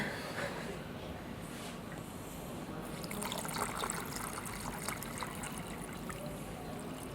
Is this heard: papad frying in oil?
no